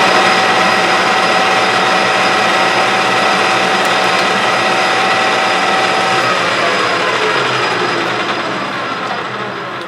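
A Clausing 6900 series metal lathe cuts a cross slide leadscrew, giving a loud continuous mechanical whir with gear whine and a steady tone that fades slightly at the end.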